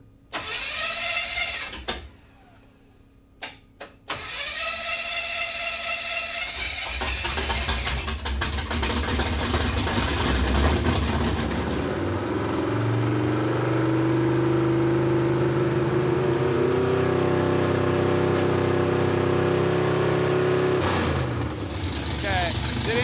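A Chevy Tri-Five truck engine running on a swapped-in carburetor: a brief start and stall, then a sustained idle with revving that rises and settles, loud and close, with a few shop noises.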